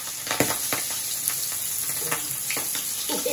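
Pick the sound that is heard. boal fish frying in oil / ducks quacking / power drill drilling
boal fish frying in oil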